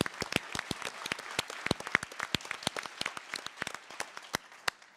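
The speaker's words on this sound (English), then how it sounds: "one more round of applause for our amazing 10 finalists." Audience applause for ten finalists at a startup innovation competition's winner announcement, sparse individual claps from a modest crowd, sharp and irregular, steady for five seconds with no talk.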